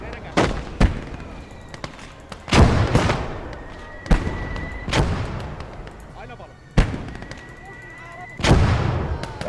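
Close-range video game combat with rifle shots and grenade blasts: sharp, loud reports in an irregular rhythm over roughly nine seconds, several heavy bursts trailing into rumbling decay, with a faint tonal hum in between.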